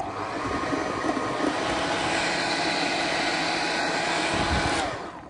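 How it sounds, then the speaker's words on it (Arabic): A food processor running at low speed to mix butter and flour, giving a steady, loud motor whir that runs unbroken and then winds down at the very end. "هبتدي هلأ أشغل على سرعة بطيئة لغاية ما يتفتت عندي الزبدة مع الطحين"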